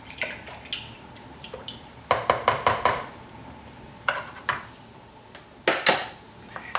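A utensil stirs pectic enzyme into blackberry wine must, clinking repeatedly against the container in quick bursts of sharp knocks and scrapes, close and fairly loud.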